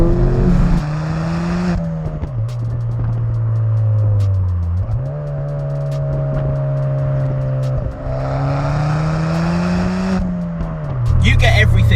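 A 2017 Ford Fiesta ST200 hot hatch with Mount Tune parts is driven hard on a B-road, its engine rising through the revs with sharp gear-change dips, loud and close from the cabin.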